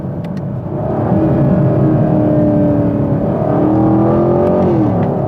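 A 2021 Chevy Camaro LT1 with a 455-horsepower engine revs loud and close, the exhaust note swelling and holding with rising and falling pitch, while sharp crackling pops sit briefly near the start and again toward the end.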